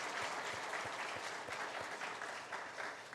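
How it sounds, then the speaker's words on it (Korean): A church congregation applauds during a Sunday Thanksgiving service, a sustained wash of many hands clapping that sounds soft and distant in the hall, with no voices over it. "한번 박수로 한번 감사하십시다."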